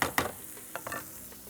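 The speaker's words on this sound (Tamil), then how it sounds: "பச்சை மிளகாயை சேர்த்துக்கிறோம்" Green chillies tossed into a pan of frying spinach make a soft sizzle under a few clicking, scraping stirs, the strikes coming irregularly close by over a quiet hiss.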